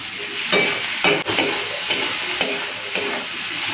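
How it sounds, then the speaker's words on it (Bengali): Taro stolons with salt and turmeric fry in a pan, a soft constant sizzle broken by regular, close scrapes of a spoon stirring about twice a second, with no talking. "কচুরলতিতে নুন আর হলুদটা দিয়ে দিয়েছি, এরপরে একটুখানি ভাজা ভাজা করে নিচ্ছি।"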